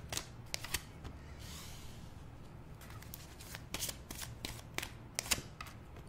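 A deck of Psychic Tarot Oracle cards is shuffled close by, with quiet, irregular riffles and sharp card snaps scattered throughout and no talking.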